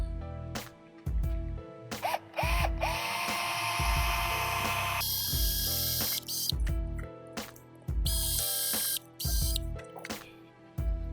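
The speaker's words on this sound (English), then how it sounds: "let's drill some pilot holes" A power drill whirs close by, drilling pilot holes in pallet wood in several bursts a few seconds long, separated by short pauses and clattering.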